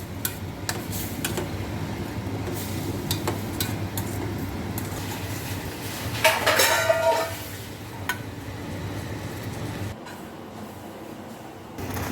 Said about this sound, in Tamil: இப்போ வல்லாரக்கீரையை நான் சிம்மில் வச்சு நல்லா வணக்கிட்டு இருக்கிறேன்